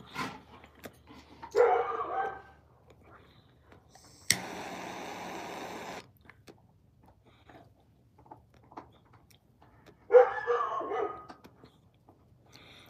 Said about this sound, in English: Why why did the dogs do that?